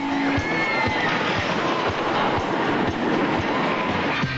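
A classic National Amusement Device Company wooden roller coaster train on the Thunderbolt runs along its track, a steady loud rumble with regular rhythmic clacks under continuous wind and track roar.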